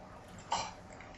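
A single short cough during a Halo 3 gaming session, a quick burst over quiet background noise with no talking.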